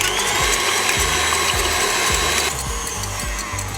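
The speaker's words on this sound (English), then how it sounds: "We've got our stand mixer and we're just going to whisk up 3 egg whites until firm peaks" A stand mixer whisks egg whites with sugar in a loud, continuous mechanical whir, with rhythmic clicking knocks about twice a second. The sound gets slightly quieter partway through.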